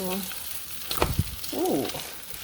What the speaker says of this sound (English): They're sizzling up here.